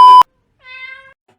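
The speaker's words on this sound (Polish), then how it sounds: "Tego jeszcze nie widziałem, żeby kot w suficie był." A short sharp electronic beep, then after a pause a single clear meow from a cat inside a ceiling, loud and close, with nothing else around it.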